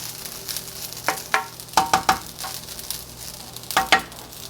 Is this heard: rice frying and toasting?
yes